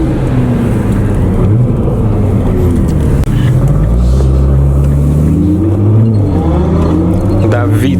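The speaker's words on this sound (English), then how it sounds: "That V10 though, gotta love that accentuated blow-off valve." Audi R8 V10 engine revving loudly and close with deep rising and falling engine tones, while people talk over it throughout.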